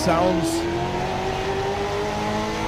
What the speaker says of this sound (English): Still sounds like it might have a little bit of a breakup.